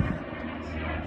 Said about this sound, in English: Sorry for the helicopter.